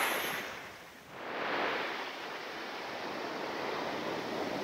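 Steady roar of ocean surf on a Bermuda beach, with a wave surging and washing in, continuous and fairly close, no voices.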